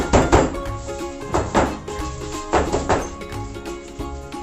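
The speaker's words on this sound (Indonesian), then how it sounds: "kita hentak meja sampai benar tidak ada rongga di dalamnya" A cake pan filled with pandan ogura cake batter is banged down on a table, giving about four dull, evenly spaced thuds over steady background music.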